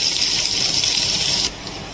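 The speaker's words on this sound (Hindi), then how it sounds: "अब इसमें पानी ऐड कर दिया है" Water gushes into a cooking pan over spiced cumin, turmeric and chilies, a bright steady pour that stops abruptly after about a second and a half, leaving faint sizzle.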